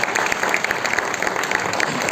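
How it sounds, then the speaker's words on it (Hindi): Loud, dense applause from a seminar audience welcoming a leader to the stage, continuous clapping of a large crowd filling the whole moment without talk. "तो मैं बुलाता हूं आपकी जोरदार तालियों के बीच में"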